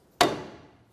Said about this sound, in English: we'll carefully take our hammer and give it a couple loving bonks